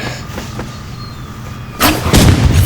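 A grenade bursts in the Rivals shooting game, a sudden loud blast with a crackling, booming tail that follows a quieter stretch of faint game noise.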